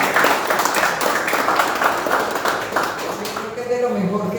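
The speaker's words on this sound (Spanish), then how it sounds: "Yo creo que se merecen otro aplauso." Sustained applause from a crowd at a university book presentation, dense and steady throughout, fading slightly near the end as a tonal murmur rises.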